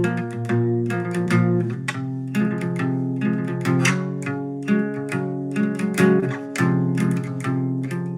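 An electric guitar with a capo clamped on the fretboard plays a run of sustained, ringing chords and picked notes at a steady pace, loud and close, with no voices.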